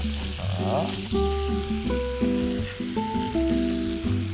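Pork neck steak sizzles on a grill with a steady crackling hiss, heard under a plucked melodic tune.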